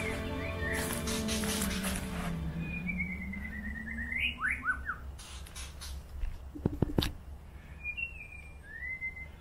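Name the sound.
birds singing in Malaysian jungle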